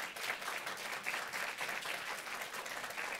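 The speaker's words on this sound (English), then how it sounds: "I'd like to ask for a big round of applause for our panelists." An audience claps for panelists at the close of a global health talk on resuscitation education, a steady, even round of applause from a roomful of people, fairly distant and soft.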